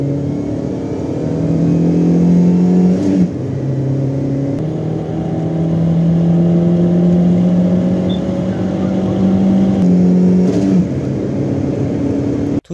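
Two Iranian compact sedans, a Shahin and a Dena, accelerate hard side by side from a standing start in a drag race, their engines droning loud and steady with clear gear-change dips in pitch around three and ten seconds, heard from close by.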